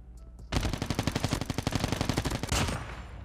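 Call of Duty Mobile gunfire fired from the hip with a Cordite build: one sustained, loud burst of rapid automatic shots in an even rhythm, close and with no one talking.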